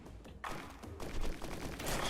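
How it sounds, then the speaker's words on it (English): Fireworks exploding in the video game Risk of Rain, a dense rapid fusillade of crackling pops and thuds that come in several surging bursts across two seconds. "Oh, I love the fireworks so much."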